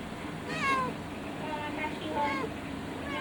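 A calico cat meows at a vet clinic, giving several short, plaintive calls close by, with people talking in the background.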